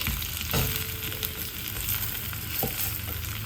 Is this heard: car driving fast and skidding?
no